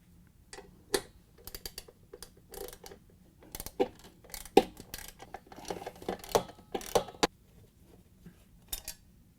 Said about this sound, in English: Use a 3/8-inch socket and ratchet to loosen and remove the 4 bolts that hold the transmission